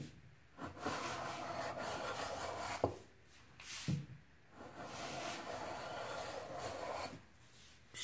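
Hand plane stroking along theorbo rib blanks, taking sparse shavings: repeated long rasping passes, each a second or two, broken by short pauses and light knocks, close and fairly quiet.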